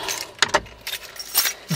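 1980s lockout car keys for a 1986 AMC Eagle Limited wagon jangle in a few quick metallic shakes, close and clear, with short bursts and brief pauses between them.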